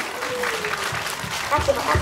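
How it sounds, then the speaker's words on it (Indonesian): Applause rises from a crowd at a Qur'an completion ceremony for young students at a TPQ, a busy wash of clapping mixed with voices and background chatter, with a few louder claps near the end. "Beri tepuk tangan yang meriah kepada para khatimin dan khotimah."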